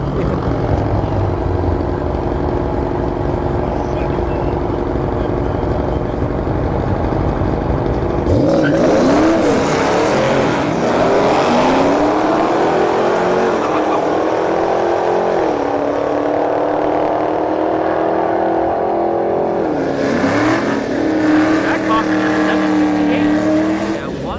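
Jeep Trackhawk and WS6 Trans Am Firebird drag race side by side at a motorsports park: engines idle low, then both launch into a loud roar that climbs through gear changes before a second surge near the end.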